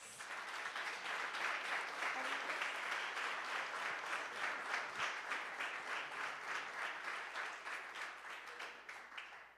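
An audience at a town council meeting applauds a swim team with sustained, dense clapping that stays loud and even for several seconds before tapering slightly at the end.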